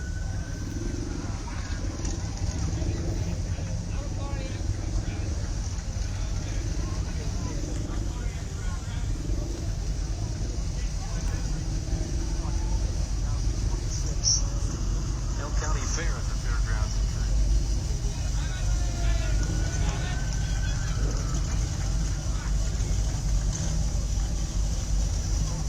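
Classic cars roll past in a Memorial Day parade in St. Marys, Pennsylvania, a steady low engine rumble with outdoor crowd noise and talk throughout.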